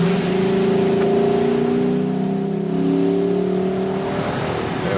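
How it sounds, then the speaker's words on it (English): A Lexus LC 500 convertible with a 5.0-litre V8 pulls hard to overtake, its steady engine drone climbing in pitch, loud and close, with no talk over it. "I think we can do some overtaking right here, right?"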